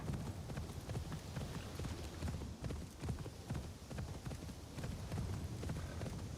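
Horse hooves pound steadily in Assassin's Creed Shadows, a quiet, continuous trotting rhythm from a ridden horse, with no voices over it.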